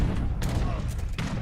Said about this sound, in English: Let the mortars shoot.